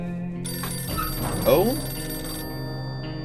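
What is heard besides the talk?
telephone ringing in the video game 60 Seconds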